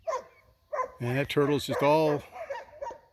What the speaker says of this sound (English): The dogs over there have been barking for about the last hour and a half because they got a turtle over there.